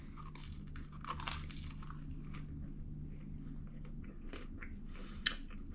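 A torn-off piece of buttery, chewy Dutch baby pancake is bitten and chewed, soft close crunching and squishing in irregular bursts over a low steady hum; no talk.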